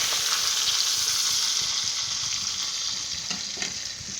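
A batch of fries deep frying in hot oil during home cooking, a dense steady loud sizzle with faint crackles and a few light stirring clatters, slowly easing toward the end.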